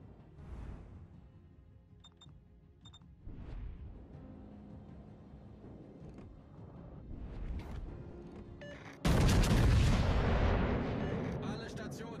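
Naval guns firing at a target in a naval combat video game, heard as booming blasts that build to a loud, sustained roar of gunfire and explosions, with game voices speaking throughout.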